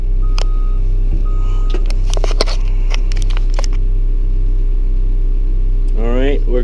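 A CAT D5 dozer engine runs loudly and steadily throughout, with a few sharp clanks, a short rising whine near the end, and faint tonal reverse-alarm beeps early on under speech.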